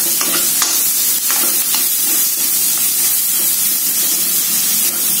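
Chopped spices stir-fried in a new wok, sizzling and hissing steadily with scrapes of the spatula, close and continuous throughout with no talk.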